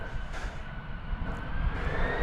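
An American Airlines jet takes off from a DFW Airport runway, its engine roar a steady broadband rumble that swells slightly louder toward the end, with no voices present.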